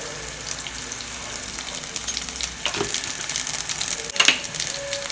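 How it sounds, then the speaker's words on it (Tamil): Half a spoon of mustard seeds sizzles in hot oil alongside garlic, a continuous frying hiss with scattered pops and a louder crackling burst near the end. "கடுகு ஒரு 1/2 ஸ்பூன் போட்டுக்கலாம்."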